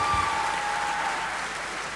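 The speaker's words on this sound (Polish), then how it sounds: "Brawa, brawa, brawa." Audience applause at a Woodstock 2017 meeting at the Akademia Sztuk Przepięknych, steady dense clapping from a crowd for two seconds, fading slightly toward the end with no talk over it.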